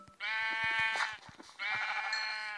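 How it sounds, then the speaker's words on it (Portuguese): Two drawn-out sheep bleats from Minecraft ring out in succession, clear and fairly close, with a short gap and small clicks between them and no talking. "Tem 4 ovelhas aqui."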